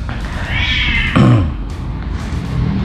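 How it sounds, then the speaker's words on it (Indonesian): A cat lets out a long, strained yowl that rises and breaks into a harsh, snarling cry, loud and close. "abaikan ya, ada suara kucing lagi berantem, si Kevin lagi berantem kayaknya."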